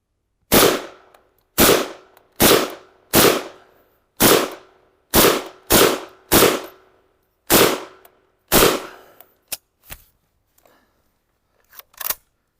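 An AG-42 Ljungman semi-automatic rifle fired outdoors, about a dozen loud, sharp shots at a steady, roughly one-per-second pace, followed by a few faint metallic clicks and handling noises.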